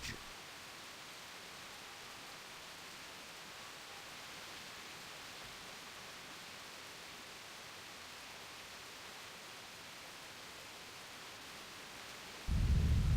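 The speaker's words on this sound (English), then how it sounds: "one day, a terrible storm beset the village." A storm with thunder in Grandia II: a steady hiss of rain-like noise that runs quietly throughout, then ends in a sudden loud, low rumble of thunder right at the close.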